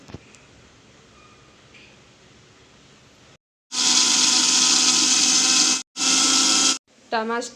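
A mixer grinder blends two chopped tomatoes for rasam. After a quiet kitchen lull it gives two loud, close, whirring bursts separated by a brief stop, then a short stuttering spin at the end.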